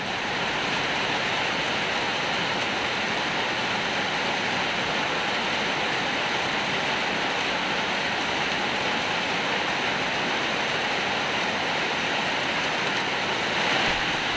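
During Typhoon Enteng, a torrential downpour with wind makes a constant, loud hiss and rush of water, unbroken and close for the whole stretch, with no voices over it.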